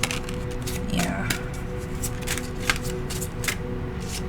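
Tarot cards being shuffled and drawn by hand, a close rapid riffle followed by a few crisp slaps and flicks as single cards are laid down, with light talking underneath.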